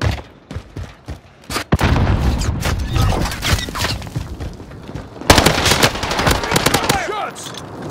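Bursts of gunfire in the video game Call of Duty: Modern Warfare, with rapid crackling volleys that swell loudly around the middle and again near the end, mixed with game effects and a player's voice.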